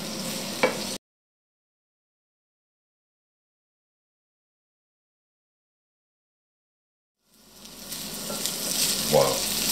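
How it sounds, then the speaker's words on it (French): An onion and potato omelette mixture cooks in a pan as the onion releases water. A short burst of sizzling is followed by a long silence, then the bubbling sizzle returns and builds, with light stirring and no talk. "avec l'oignon ça bout plus ou moins, ce qui relâche un peu d'eau"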